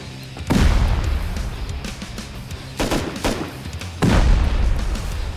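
Heavy C4 charges detonating during a siege raid in the survival game Rust: three big booming blasts roughly every one and a half seconds, each with a rumbling tail and scattered crackling debris in between.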